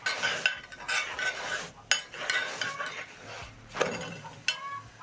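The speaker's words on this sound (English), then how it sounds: "Spread in some cooking oil and spin around." A chapati swirled around in an oiled pan, with a soft frying hiss broken by several sharp metallic scrapes and clinks.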